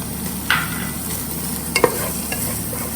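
Dhansaak spice powder sautéing in a pan, a steady close sizzle broken by a few sharp scrapes of stirring.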